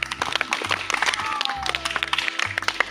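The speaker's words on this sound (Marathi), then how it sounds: "एकदा जोरदार टाळ्या वाजवा" Children at a school game day applaud loudly, with bursts of clapping mixed with crowd noise and taps close by.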